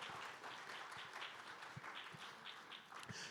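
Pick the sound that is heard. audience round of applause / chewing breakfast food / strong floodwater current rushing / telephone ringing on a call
audience round of applause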